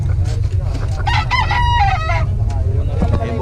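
A stag rooster crows close and loud in a full cock-a-doodle-doo over constant low rumble and background noise.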